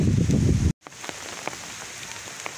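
Heavy rain pours down during a downpour in Odisha, loud dense hiss at first, cutting out briefly, then continuing as a thinner patter with scattered distinct drops, no talking.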